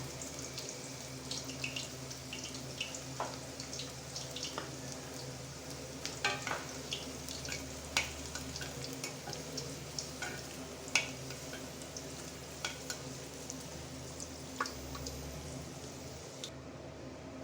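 Chital fish koftas fry in a pan of hot oil, giving a steady, close sizzle with scattered pops and crackles, and a faint clink of a utensil now and then.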